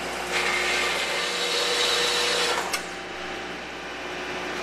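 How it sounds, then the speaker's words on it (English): A bandsaw cuts through a steel deck stair rail, a steady whining grind that runs for a couple of seconds, ends with a brief sharp click, then leaves a softer motor hum. "taking this over to the bandsaw, setting it on there and cutting"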